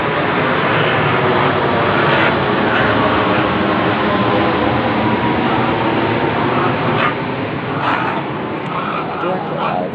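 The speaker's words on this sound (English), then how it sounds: "There is a plane coming." A fixed-wing airplane passes low directly overhead, a loud, continuous broadband engine roar that fills the whole stretch with little variation.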